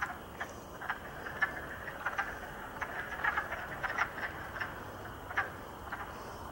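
Wood frogs croak from a spring pond in rocky woodland, a loose chorus of short clucking calls repeating irregularly at a moderate distance, with no talk.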